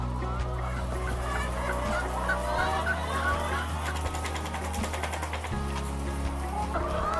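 Laying hens cluck and squawk continuously on an egg farm, a dense, busy flock chorus over steady low machinery hum, with occasional faint voices in the background.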